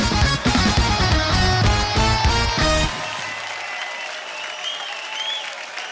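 On a Hindi TV comedy show, a studio audience's applause rises under a loud burst of rhythmic music. The music cuts out after about three seconds, leaving a softer wash of clapping with lingering tones.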